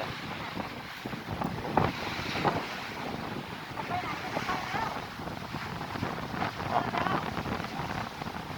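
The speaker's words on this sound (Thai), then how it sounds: "ลมพัดน้ำซัด น้ำซัด ขึ้นมาข้างบนหมด" Strong wind gusting over the water at Pa Sak dam, with waves slapping against the shore, a rough continuous buffeting roar of wind across the microphone and steady splashing, with people talking in the background.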